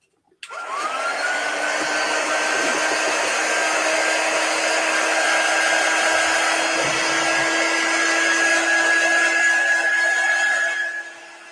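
A hair dryer blows steadily on a canvas to dry chalk paste, a loud continuous whoosh with a thin high whine that runs unbroken for about eleven seconds before cutting off.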